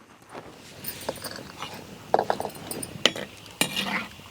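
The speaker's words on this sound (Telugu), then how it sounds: "ఇదే నూనెలో జీడిపప్పులు కూడా వేయించుకోవాలి" Cashews frying in oil in a pan for citron pulihora, heard as a near, soft sizzle with scattered spoon-stirring clinks and scrapes against the pan, no voices.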